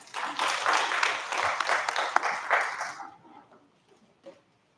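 An audience claps after a speech at a talk on street-connected children, a few seconds of lively, close applause with scattered sharp claps, then it stops abruptly, leaving near silence with faint stray sounds.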